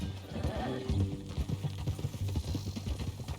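Horse hooves clip-clop in steady rhythm on a ranch in the Red Dead Redemption 2 video game, close and moderately loud against a low background hum.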